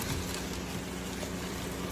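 Steady rain falls outdoors in a dense, continuous hiss of drops striking the ground, heavy and close throughout with no breaks.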